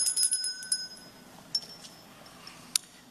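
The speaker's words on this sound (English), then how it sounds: "France rings the bell for the love of humanity." At a Martin Luther King Jr. commemorative service, a small bell gives a short, fairly quiet burst of tinkling rings, then a couple of isolated light chimes ring out over a soft, quiet room.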